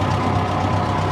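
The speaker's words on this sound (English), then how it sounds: "This is reverse low at idle." Allis Chalmers Model D tractor engine idling in reverse low gear, a steady low rumbling drone that holds even and close throughout, with no talking.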